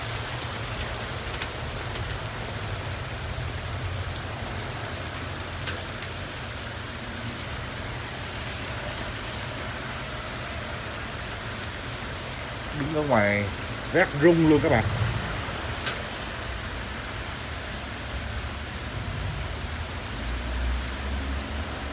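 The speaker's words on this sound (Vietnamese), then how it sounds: "nhưng mà mưa đá thì nó khác hẳn hơn. Nó lạnh hơn." Hail falls steadily in California, a continuous hiss of pellets striking the ground outdoors, with a person talking briefly partway through over the constant patter.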